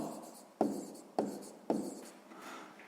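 A pen scratches across paper while math homework is written out, with soft continuous scribbling and three sharper taps or strokes spaced about half a second apart, close and quiet.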